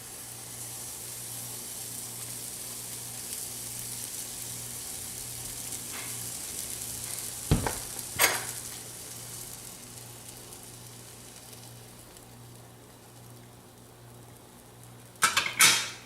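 Waffle batter cooks in a Bella rotating waffle maker with a soft, steady sizzle and hiss, broken by a couple of brief clanks and clicks from the appliance, with no talking.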